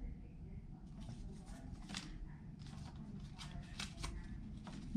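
Sheets of origami paper are handled and folded up close, giving soft crinkling and brisk rustling bursts in a quiet room.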